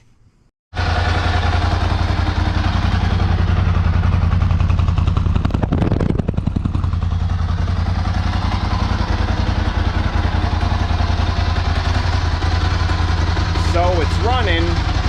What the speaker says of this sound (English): put some fuel in the bike, and try to start it up